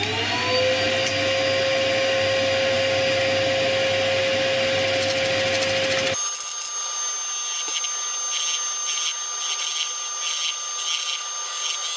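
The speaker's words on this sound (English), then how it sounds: "I'll turn on the extraction so the dust from the stone has somewhere to go" Dust extraction system running loud and steady in a woodturning workshop, a continuous whooshing roar that shifts abruptly in tone partway through, with no talking.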